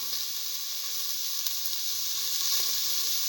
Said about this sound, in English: Now put in the tomato pieces and the green chili